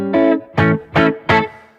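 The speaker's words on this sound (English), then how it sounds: "That's my 1960s reverb, spring reverb, with a Fender twin reverb with a spring in it." Guitar chords played through the 1960s spring reverb of a Fender Twin Reverb amp: four loud strummed chords at a steady pace, each leaving a springy, ringing tail that rings briefly before the next.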